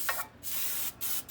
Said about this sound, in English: Spray whatever kind of casserole dish you have.